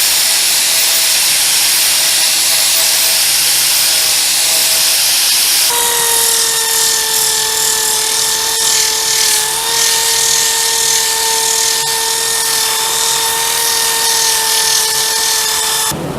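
A power tool carves grooves into a wooden decorative storage box, its steady high-pitched whine continuous and loud throughout, dropping to a lower sustained pitch partway as the cut continues.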